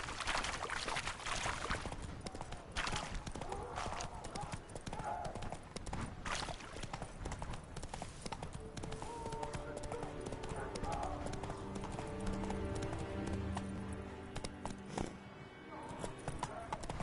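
Hooves of the horse Roach clip-clop in a steady galloping rhythm in The Witcher 3, loud and continuous over game music and effects, with a voice calling out now and then.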